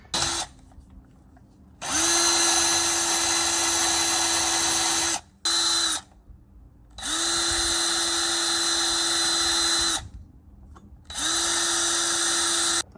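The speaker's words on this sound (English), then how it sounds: "So I got my drill with a wider wheel on it." Power drill fitted with a wire wheel whirs loudly in long sustained runs, scrubbing corrosion off a car starter, with several short pauses between bursts.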